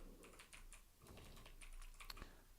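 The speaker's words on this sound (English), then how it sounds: "why am I typing like that?" Rapid, uneven keystrokes on a computer keyboard while entering code, close and fairly quiet, with short pauses between bursts of clicks.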